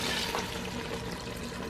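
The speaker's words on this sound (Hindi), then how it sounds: "अब ये इसको मैं थोड़ा पानी डाल के ना साथ ही पानी डाल दूँगी" Water is poured from a glass into a pot of meat and arbi (taro root) for arvi gosht, a continuous close splashing gush heard alone.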